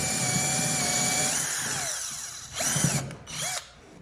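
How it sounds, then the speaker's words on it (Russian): A DEKO cordless screwdriver drives a screw at an angle into a squeaky wooden floor, a steady whining motor run that slows, then two short bursts of spinning and stopping, close and loud with no talk. "Теперь беру вот так вот этот шуруповерт и под углом"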